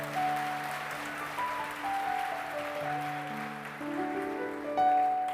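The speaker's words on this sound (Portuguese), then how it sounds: "Dê uma salva de palmas para o Senhor." Church congregation giving a round of applause to the Lord, a dense, even wash of many hands clapping at moderate volume, swelling near the end over held keyboard chords.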